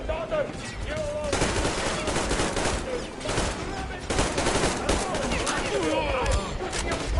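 Rapid machine-gun bursts from a first-person post-apocalyptic shooter, Metro Exodus, rattle loudly and almost continuously, with short gaps between volleys and shouting voices mixed in among the gunfire.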